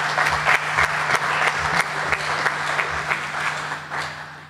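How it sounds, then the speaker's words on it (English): Audience applause at a talk on sound-based illusions, moderately loud clapping from a smaller group with distinct individual claps and a low steady hum underneath. "Round of applause."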